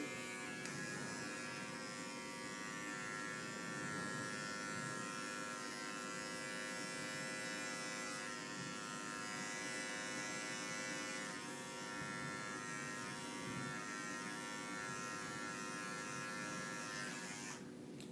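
An electric hair clipper buzzes continuously and evenly for eighteen seconds while tapering a neckline, a close, steady high-pitched drone with slight shifts as it moves over the neck.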